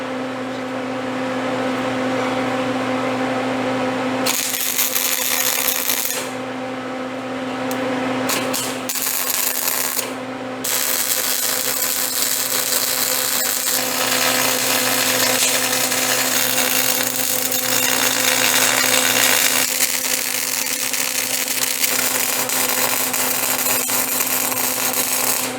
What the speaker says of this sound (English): Alright, let me get this welded up.